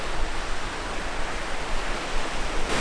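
Ocean waves washing onto a sandy beach, a steady broad hiss of surf and breaking water, continuous and fairly loud throughout with no talking.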